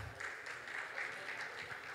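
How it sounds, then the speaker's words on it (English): Steady wash of audience applause at a conference talk on Bitcoin and stablecoins in Africa, greeting Chris Maurice, CEO of Yellow Card. It sounds faint and distant, a continuous patter of many hands with no break across the two seconds. "Let's give Chris a warm round of applause."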